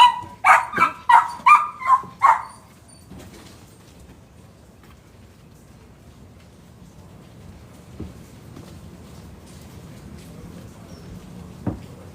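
A dog barks in a quick run of about six loud, close barks, followed by a quiet room with a few faint knocks.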